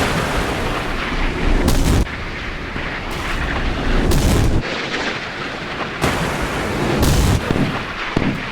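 Naval guns in the Sea Power naval combat game firing at an incoming Exocet missile, heavy booming bursts in several loud, closely spaced salvos with short gaps between.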